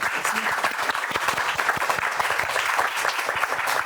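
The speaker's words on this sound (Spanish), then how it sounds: "Pido un fuerte aplauso para la doctora" A lecture audience gives a doctor a round of dense, close clapping that stays even throughout, with no talking over it.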